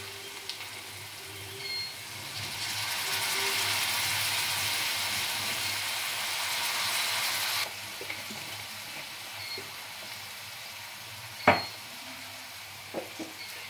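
Soy sauce poured into a pan of frying chilli fish brings a swelling sizzle that hisses for several seconds before dropping back, followed by a sharp clack and a few soft utensil taps.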